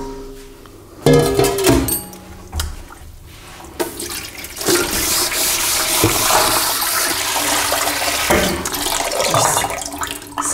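Running water rinses dye pots in a home sink, a steady gushing splash that starts abruptly and continues with clattering bursts of handling, fairly close and loud.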